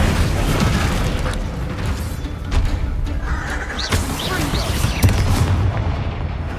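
Fire spells cast in Hogwarts Legacy, a dense run of booming bursts and crackling blasts layered over a steady rumble of combat noise, with a voice calling out spell names.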